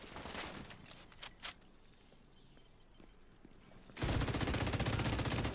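Gunfire in the video game Division 2, with scattered sharp shots early on, then a dense continuous burst of rapid automatic fire at the end, loud and close.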